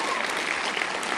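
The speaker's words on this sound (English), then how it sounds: "give yourself a round of applause" A crowd of Supernatural fans at a 2006 Paley Festival gathering applauds steadily, dense clapping filling the room without a break for the whole moment.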